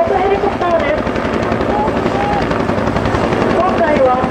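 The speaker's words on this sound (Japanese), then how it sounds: "前方のヘリコプター UHO は13人乗りで" An UH-1 military transport helicopter flies overhead at a ground forces anniversary training display in Japan, its rotor beating loud and continuous through the whole stretch with chopping blade pulses and someone speaking over it.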